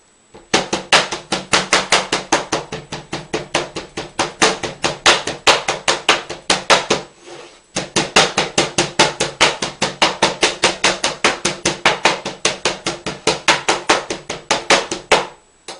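Rapid, steady chopping thuds of a meat cleaver tenderizing steak on a board, dozens of strokes in a brisk rhythm, pausing once briefly midway.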